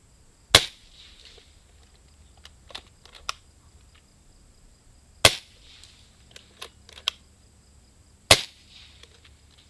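Three sharp, fairly quiet shots from an integrally suppressed Puncher Mega air rifle, evenly spaced several seconds apart, with faint mechanical clicks of handling between them.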